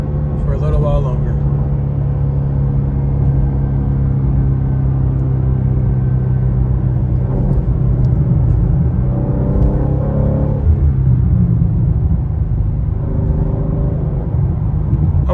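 A BMW M2 engine drones steadily from inside the cabin while driving during break-in, held under 4,000 RPM, with a constant low hum throughout and voices talking over it.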